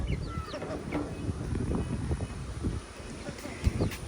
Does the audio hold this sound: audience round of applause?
no